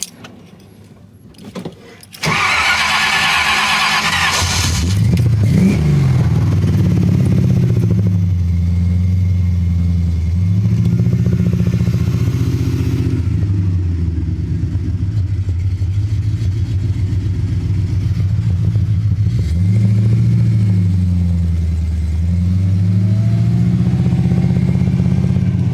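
An AMC AMX engine converted to electronic fuel injection idles loudly and unevenly after a starter cranks it up, its low drone surging and sagging in repeated stumbles as it struggles to keep running.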